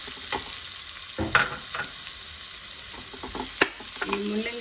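Chopped radish sizzling in hot oil in a pan while being stirred for chutney, a steady crackling fry broken by sharp scrapes and clinks of the spoon against the pan.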